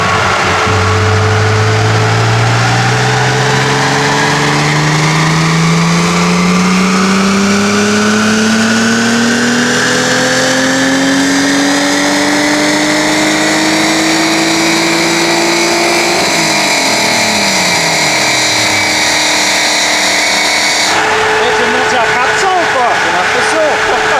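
A turbocharged BMW 330ci E46 engine revving hard with the wheels spinning, its loud, close pitch climbing steadily for many seconds, then falling away and picking up again, with voices over it.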